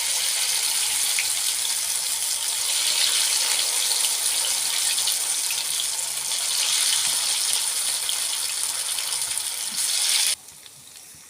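Soybean kebabs fry in hot oil with a continuous bright, hissing sizzle that stays loud and steady for about ten seconds, then drops away sharply to quiet background.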